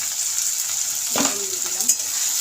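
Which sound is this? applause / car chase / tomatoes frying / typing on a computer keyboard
tomatoes frying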